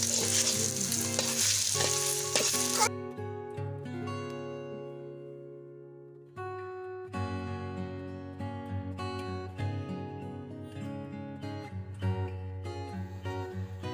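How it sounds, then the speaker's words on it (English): Cabbage and egg fry in hot oil in a pan, village-style omelet cooking, with a steady sizzle running throughout alongside a tonal background that drops out briefly partway through. "Now fry for 5 minutes."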